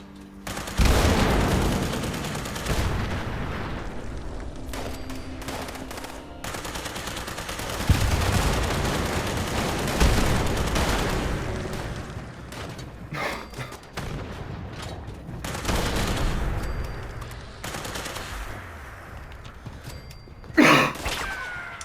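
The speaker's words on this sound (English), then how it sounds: "Look at all those explosives going off." Rapid bursts of gunfire and heavy explosions crackle and boom nonstop, a dense, loud barrage of Fallout 76 combat with occasional sharper blasts.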